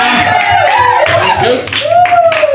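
Church congregation clapping hands in rhythmic unison, loud and close, mixed with voices and a singing or shouting voice rising over the claps.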